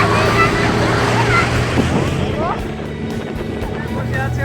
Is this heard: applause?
no